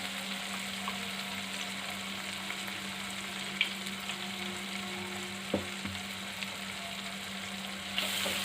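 Onion, tomato and ground green masala fry in hot oil in a pan, giving a steady close sizzle with a couple of faint clinks from stirring.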